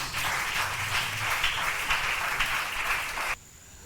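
A church congregation applauds together in a dense, steady wash of hand claps that runs for about three seconds, then cuts off sharply, leaving only a quiet hum.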